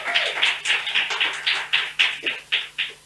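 Audience applause at an Indonesian talk show on illegal cigarettes: a run of roughly a dozen evenly spaced bursts, bright and mid-loud, sounding like sparse rhythmic clapping rather than a dense ovation.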